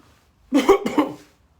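A single close, sharp cough in two quick bursts, then quiet.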